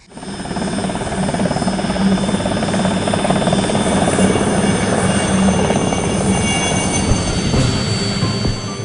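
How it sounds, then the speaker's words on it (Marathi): Helicopter evacuating sick soldiers from the Siachen glacier to base camp, heard as a steady, loud, continuous rotor and engine roar that holds level for the whole stretch with no speech. "आजारी पडलेल्या जवानांना हेलिकॉप्टर्सनी बेस कॅम्प आणि हॉस्पिटलपर्यंत पोहोचवलं जातं"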